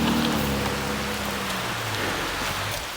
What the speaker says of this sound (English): the rain makes things a little slippery